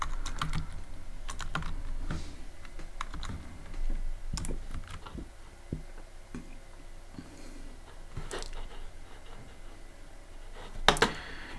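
Keys clatter on a computer keyboard while code for a Python rock-paper-scissors game is typed: steady runs of close, crisp keystrokes broken by short pauses, with one sharper cluster near the end and no speech.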